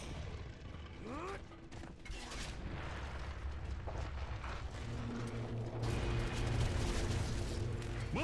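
Mortar explosions in Gears of War 2: several heavy booms and rumbling blasts, with mechanical clanks and whistling, layered over a constant low battle drone that swells toward the end.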